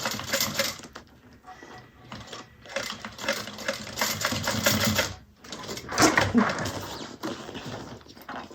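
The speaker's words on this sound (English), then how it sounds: "I'm just going to sew this down" A sewing machine stitches down a bag strap in rapid mechanical bursts, running in several stretches with brief pauses between, close and clear.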